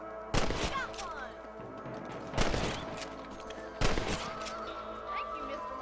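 Gunshots at rabbits while hunting in the Red Dead Redemption video game: three loud, sharp rifle cracks a second or more apart, each ringing out briefly over a steady low game soundscape.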